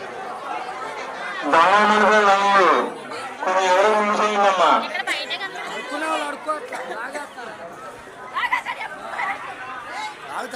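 Cows at a village fair let out two long, low moos close by, one after another, with crowd chatter and voices continuing underneath and after them.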